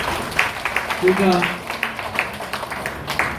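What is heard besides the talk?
audience applause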